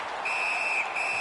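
A referee's whistle sounds in the NHL 19 ice hockey video game, a sustained shrill tone with a brief gap partway through, heard over a constant arena crowd roar.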